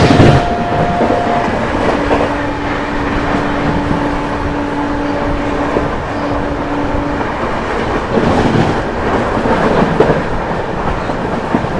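Duranto Express train running steadily at speed on rails, with a continuous rumbling roar, rhythmic clickety-clack of wheels and faint tonal whines, heard from inside a coach with no talking.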